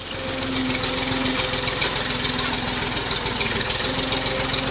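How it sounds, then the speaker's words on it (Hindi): A tractor engine runs steadily while hauling harvested maize in Skardu, Baltistan, a loud continuous diesel rumble with a rapid knocking pulse throughout. "आप देख सकते हैं ट्रैक्टर को"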